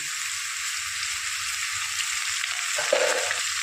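Chopped pumpkin dropped into a pan of frying crushed garlic and half a spoon of cumin: a steady, loud hiss of hot oil throughout, with a brief sharper surge near the end as the pieces go in.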